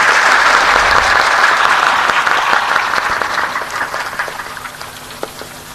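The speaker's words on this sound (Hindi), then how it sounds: "एक बार ताली बजाओ बढ़िया से।" Loud, dense applause from an audience at a spiritual satsang gathering, sustained for several seconds and then gradually thinning and fading toward the end.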